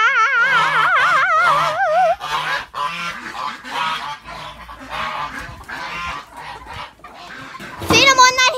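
Chickens cluck alongside loud honking geese at feeding time in a farmyard with ducks, the overlapping bird calls continuous and close, ending in a loud burst of honks.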